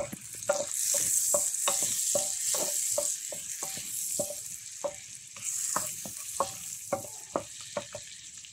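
White onions sauté in a pan, a bright crackling sizzle with frequent quick taps and scrapes of a spatula against the pan, close and fairly loud, without speech.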